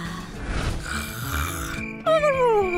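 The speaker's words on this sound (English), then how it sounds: "She snores like an old grandpa." Snoring from a woman asleep indoors, a rough rasping breath under music and scene noise, followed near the end by a sharp, bright squeaky tone.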